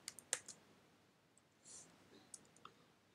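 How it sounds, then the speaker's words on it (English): Computer keyboard keys pressed during Android game coding, heard as a few faint, sparse clicks in a quick cluster, then two more isolated taps after a pause, in a quiet room with no talking. "let me press the keys that it's asking me to press"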